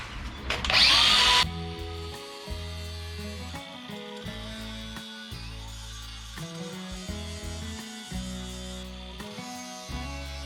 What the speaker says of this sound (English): I'm just going to give them a bit of a grind and clear some room